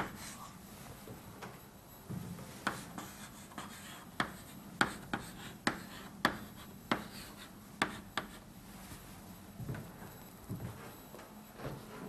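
Chalk or marker writing on a board during a lecture on combustion kinetics, a series of quiet taps and short scratchy strokes in an irregular rhythm, faint and close, with no talk over it.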